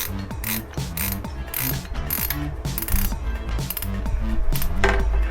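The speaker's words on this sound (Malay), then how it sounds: "Okay, dah gulung sikit, kita ketatkan drag." Drag on a Daiwa Seaborg 300JL electric fishing reel being tightened, a rapid run of loud mechanical ratcheting clicks with geared whirring, close up and continuous, with no talk.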